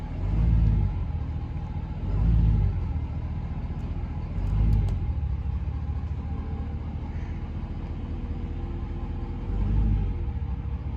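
A pickup truck idles and rolls backward toward a gooseneck trailer, its engine rumble swelling in a few low periodic surges over a steady close drone.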